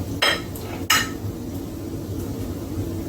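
Crab legs stirred in a hot pan on a stovetop, with two sharp metallic clanks of utensil against pan early on, then a low steady sizzle and faint scraping.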